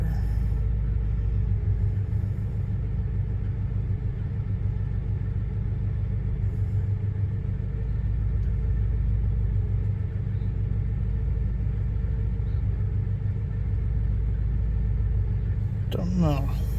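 A 1968 Oldsmobile Delmont 88 engine running after a cold start on Thanksgiving, a steady, deep rumbling idle with a throbbing low pulse that holds even throughout, ending with a brief rustle.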